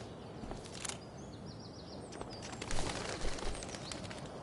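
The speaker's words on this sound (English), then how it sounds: "One small flight for this bird" A bird in the video game Life is Strange: Before the Storm gives several short chirps over an outdoor ambience. Flapping-like rustles and soft thumps follow as it takes off.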